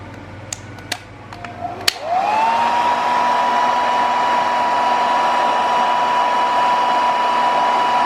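A few sharp clicks, then a hair dryer whirs up to speed and blows with a steady, loud whine and rushing air.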